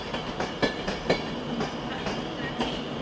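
A tram train rolls through Manchester Piccadilly station, its wheels giving a steady clickety-clack of regular rail-joint knocks over a continuous rumble, fairly close and with no talking.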